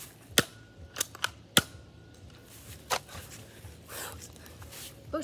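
Toy cap guns pop in a pretend shooting standoff, several sharp, loud cracks spaced irregularly, two close together near the start and a later single shot, with faint background noise between.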